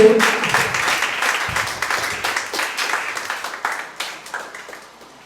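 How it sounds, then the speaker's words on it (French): Warm applause from a conference audience opens loud with crisp, distinct claps, then thins and fades over several seconds until only scattered hands remain. "demandez nous pour nous applaudir chaleureusement"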